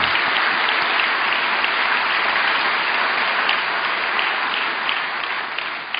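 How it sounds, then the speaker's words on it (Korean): A church congregation applauds a choir after a hymn performance, steady dense clapping filling the whole room and holding at a constant level before easing slightly near the end, with no talk over it. "다시 한번 큰 격려의 박수 부탁드립니다"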